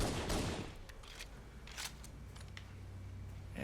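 Pistol gunfire in the Halo video game, a series of sharp, fairly faint shots fired in an uneven rhythm over a low background hum.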